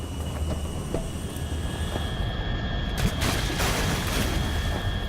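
A propeller airplane engine drones steadily inside a Metal Gear Solid 3 cutscene, a constant loud hum with tonal whine over low rumble, slight swells near the end and no talk.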